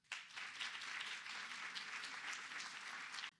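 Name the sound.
audience applause at a museum symposium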